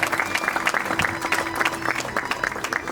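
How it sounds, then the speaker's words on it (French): Audience applause at an Excellentia scholarship ceremony, a dense run of many hands clapping, steady and fairly close, filling the whole stretch without speech. "Je pense que nous pouvons l'applaudir encore plus fort."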